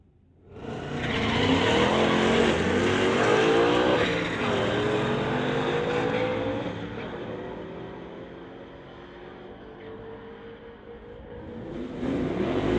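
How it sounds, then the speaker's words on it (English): A 1983 Chevy and a 2019 Ford Mustang launch side by side in a street-legal drag race, engines roaring loud and close, rising through the gears as they pull away, then fading before another car rumbles up at the end. "1983 Chevy from Surrey in the TCS lane. It's going against Owen from Squamish in the 2019 Ford Mustang."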